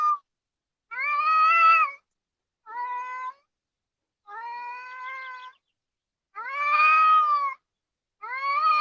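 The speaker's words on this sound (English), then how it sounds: "That's what boy cats do. They call out like fucking lions." An unneutered male cat yowls in five long, drawn-out wailing calls separated by short silences, loud and close, with no other sounds around.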